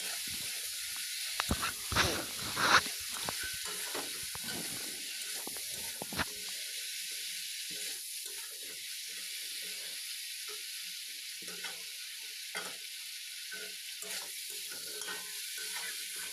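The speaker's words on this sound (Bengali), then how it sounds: "দিয়ে মাংসটাকে দিয়ে আবারও কিছু সময় ভালোভাবে কষিয়ে নেব" Chicken meat sautéing with ginger paste in a pan, a steady close sizzle and hiss of frying with occasional stirring scrapes, no voices.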